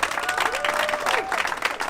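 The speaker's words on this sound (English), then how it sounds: "let's give Tasha a round of applause again" Audience at a political get-out-the-vote rally applauds steadily for two seconds, a dense wash of clapping with a faint tonal voice or whistle threading through it.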